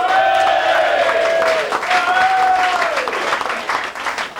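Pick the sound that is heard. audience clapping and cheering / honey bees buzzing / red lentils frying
audience clapping and cheering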